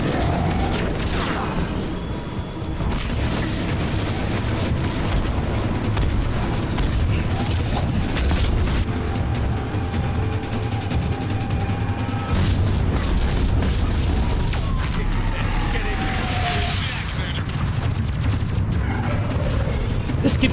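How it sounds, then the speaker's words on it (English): Video game combat against a harvester: repeated grenade booms and bursts of gunfire over a dense, continuous roar of battle noise, with faint voices in the mix. "Just keep tossing grenades until it dies."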